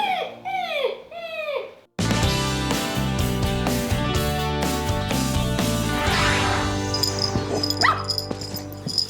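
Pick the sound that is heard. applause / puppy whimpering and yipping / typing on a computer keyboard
puppy whimpering and yipping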